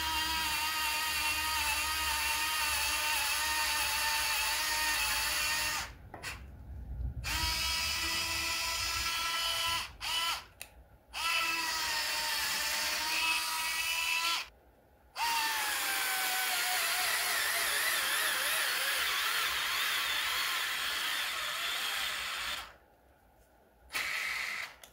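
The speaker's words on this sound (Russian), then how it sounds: "Саморез 6 на 100 мм с предварительным засверливанием, но не на всю глубину." A Bosch GO 2 cordless screwdriver drives a 6x100 mm screw into a partly pre-drilled hole, a loud sustained whining motor that strains and drops in pitch under load, stopping briefly several times before restarting.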